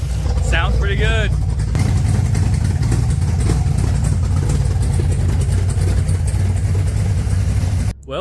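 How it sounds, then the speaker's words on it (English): A Camaro's newly built engine idles right after its first start, a steady low rumble with a noted exhaust leak, loud and continuous throughout with a few bird-like chirps early on. "Just like any time you start your first engine, you got an exhaust leak and some minor things that you need to address."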